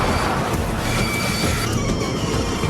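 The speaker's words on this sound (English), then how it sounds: "A runaway train with defective brakes races towards Paris's Gare de Lyon" A runaway train with defective brakes rumbles steadily along the rails toward Paris's Gare de Lyon, a dense, continuous roar with faint wheel squeals and clatter riding over the noise.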